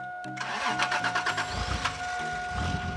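A restored Toyota Supra MK3 cranks in a rapid rhythmic churn for about a second, then catches and fires into a rough, close running idle.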